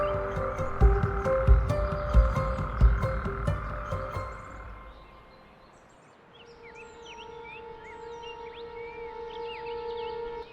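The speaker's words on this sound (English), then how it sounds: "the frogs emerge in unison, beginning an intense period of reproduction" Frogs croak loudly in a wetland after heavy rain, a dense rhythmic chorus up close. It fades after about five seconds into a quieter mix of high chirping calls and steady background hum.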